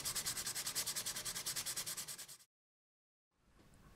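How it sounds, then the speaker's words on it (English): Sandpaper is rubbed by hand along a routed channel in maple wood in about twenty quick, even back-and-forth strokes that fade out, then a pause and faint rustle. "I just had to go back and do a little touch up with the sandpaper."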